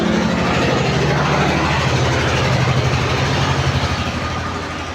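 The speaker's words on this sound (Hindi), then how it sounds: "गाड़ी पार होती रहती है, आवाज़ आती है" Vehicles passing by outside, a continuous low engine rumble like a heavy truck or car going past, steady and fairly loud before fading slightly at the end, with no speech.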